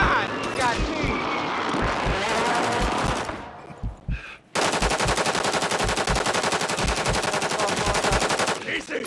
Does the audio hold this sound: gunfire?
yes